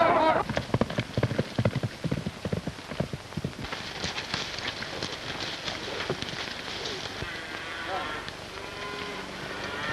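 Rapid horse hoofbeats clatter in an uneven rhythm for the first few seconds in a 1932 western film, then fade under a steady wash of noise and scattered voices.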